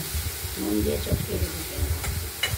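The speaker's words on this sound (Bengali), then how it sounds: "এইভাবে হলুদ দিয়ে নাড়াচাড়া করে একটু ভাজা ভাজা করে নেব।" Chopped banana stem with turmeric is stirred in a hot pan, producing soft scraping and a faint sizzle, close by, while a person talks over much of it.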